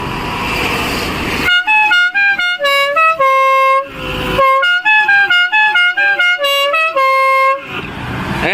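A six-pipe air horn fitted to a 2015 Maruti Swift plays a loud, close melody of short, bright tonal blasts stepping through different pitches in quick bursts with brief gaps, alone and without any talking.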